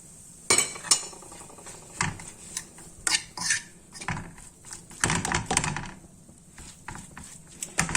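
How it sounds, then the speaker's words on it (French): A fork scrapes and clinks against a worn, damaged frying pan while potato and ground meat with salt, white pepper and caraway are stirred for tartlets, giving irregular close metallic taps and scrapes. "J'étais avec la fourchette, hein. J'avais abîmé ma poêle."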